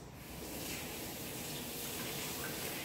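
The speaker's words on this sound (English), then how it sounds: "I wash my hands." Hands are washed under a running kitchen tap in a home baking setting, a quiet steady rush of water lasting a few seconds.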